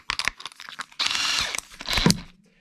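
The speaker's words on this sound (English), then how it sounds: "found the world's finest trimmer, which is a little Crow Gun Works company product, and it is really nice. You just put it into your drill" A power drill spins a Crow Gun Works cartridge trimmer while trimming 300 Blackout brass: short bursts of whirring and cutting give way to two longer sustained whines, close and fairly loud, with no voices.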